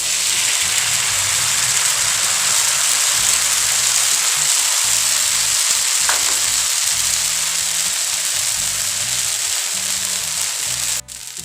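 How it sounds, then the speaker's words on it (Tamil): Balloon vine dosa batter sizzles loudly and steadily on a hot oiled griddle over medium flame, a continuous crackling hiss with no voices. "இப்போது நம்ம மிக்ஸ் பண்ண தோசை பேட்டரை தோசையாக ஊற்றி எடுத்துக்கலாம்."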